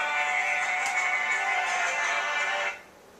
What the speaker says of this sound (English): Oh, Jim's on the phone.